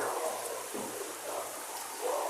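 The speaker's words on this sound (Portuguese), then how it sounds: "Agora tá chovendo." Rain falls outside a rural home, a soft, steady hiss that stays faint and continuous at a distance, with no voices over it.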